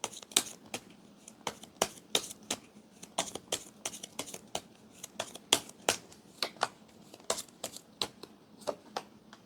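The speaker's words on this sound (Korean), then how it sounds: "제가 카드 2장 뽑겠습니다." Tarot cards are handled and drawn on a table, giving a steady run of crisp, close card snaps and flicks at a fairly even pace over soft rustling, with no voices.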